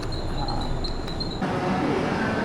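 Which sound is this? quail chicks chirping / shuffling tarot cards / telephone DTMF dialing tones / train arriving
train arriving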